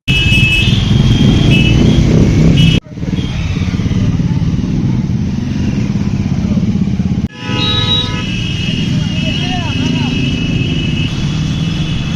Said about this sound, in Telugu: సినిమాలు సెంటర్ నుంచి అంకమ్మ దేవాలయం వరకు బైక్ ర్యాలీ నిర్వహించారు.